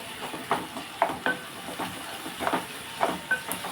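Tomatoes and onions frying in a pan for boondi curry, a continuous sizzle and hiss with repeated scraping stirs at a steady rhythm, close and moderately loud.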